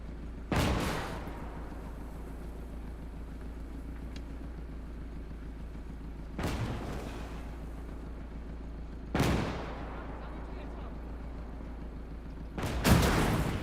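Gunfire in a WW2 Eastern Front tank battle in the Gates of Hell: Ostfront game: four heavy, booming shots several seconds apart over a constant low engine rumble, with no talking.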